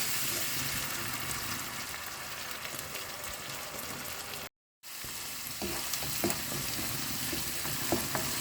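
Ginger garlic paste frying in a pan, a dense continuous sizzle heard up close with a brief dropout midway, then sizzling resumes with a few light stirring clicks.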